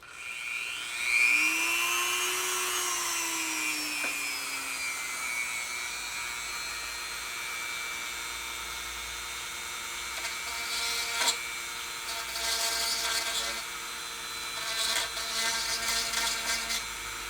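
A high-pitched rotary power tool whines as it grinds open cracks in a Yamaha Radian motorcycle part ahead of epoxy repair, its pitch sweeping then settling into a steady drone with intermittent gritty bursts of contact.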